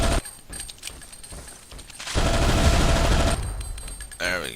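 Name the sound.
gunfire in video game Zombie Shooter 2 boss fight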